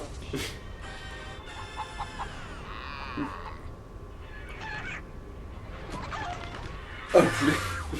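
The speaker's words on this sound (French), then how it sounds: "Oh le poulet. Je déteste les poulets." Cartoonish chicken clucking in the Crash Tag Team Racing video game, heard among game music and effects, with a louder squawk burst near the end.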